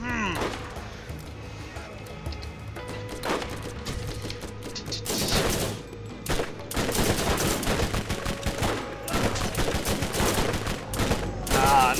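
SMG fire in the video game Borderlands, with rapid bursts and scattered shots that swell into dense, sustained volleys in the second half, heard under people talking.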